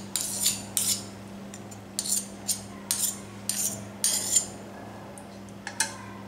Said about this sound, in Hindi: इस स्पून से हमें सिर्फ इसे थोड़ा सा बीट कर लेना है